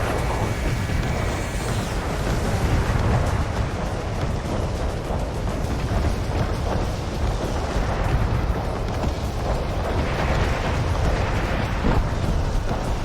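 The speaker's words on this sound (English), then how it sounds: "Good airstrike, I think." Airstrike explosions pound targets in the video game Renegade X, making a dense, continuous roar of booms and rumbling blasts that stays loud throughout.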